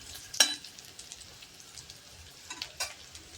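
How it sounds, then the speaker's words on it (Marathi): A medium-sized onion dry-roasting in a pan until charred dark, a faint, low sizzle broken by a couple of sharper crackles or clinks. "हा कांदा हा एक मीडियम साईज कांदा घेतलेला आहे छान असं ह्याला खरपूस काळपट रंगापर्यंत आपल्याला भाजून घ्यायचं आहे"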